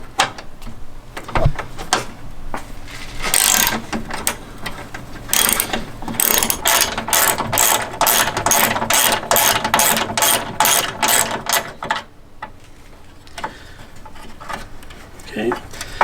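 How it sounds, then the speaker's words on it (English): A ratchet loosens radiator bracket bolts on a 2000 Ford Mustang 4.6L V8, giving rapid bursts of close, crisp clicking in repeated runs with short pauses between strokes, ending in a quieter stretch. "So we're going to loosen these now and take these off."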